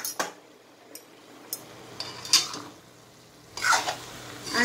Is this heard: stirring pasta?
yes